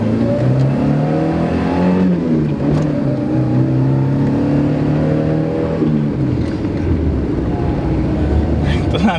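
A 1983 Toyota Corolla DX's engine revs up and accelerates, its pitch climbing steadily and dropping between gear shifts, loud and close from inside the cabin.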